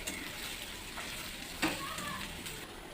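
Goat meat fries in a modest amount of oil, browning in the pan with a continuous soft sizzle and crackle, plus a faint scrape of stirring partway through.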